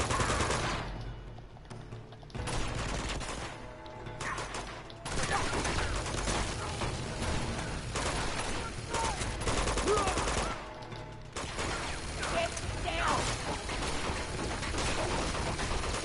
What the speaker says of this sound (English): There's a machine gun over there!